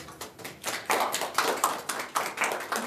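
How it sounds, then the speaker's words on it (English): Sparse audience clapping after a talk on Brazilian politics, a few hands pattering in uneven bursts, close and fairly clear, no one speaking. "Applause."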